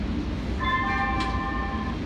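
Low rumble of a Kinkisharyo P3010 light rail train rolling along the rails on the LA Metro Expo Line, with a brief high electronic tone sounding partway through, steady and close.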